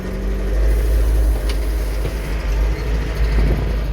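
A Scout 504 C tractor engine rumbles loudly and close as it pulls away and works through the gears, a deep steady drone with slight swells as the revs change, and no voices.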